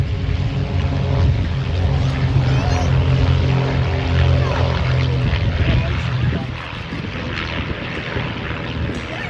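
A Vans RV light propeller aircraft climbs out during an air show display at Duxford, its steady engine drone loud and close before easing slightly near the end.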